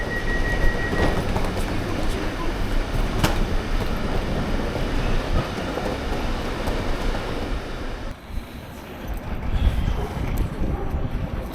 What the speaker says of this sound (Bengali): একটা ট্রেন দেখাচ্ছি, ডবল ডেকার।